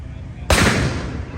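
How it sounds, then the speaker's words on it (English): A single loud cannon warning shot fired from the Sailing Ship Columbia on the river at Disneyland, a sudden sharp boom followed by a rolling, echoing decay amid outdoor ambience. "They're about to fire a warning shot. Best be stepping back if you're near the cannon."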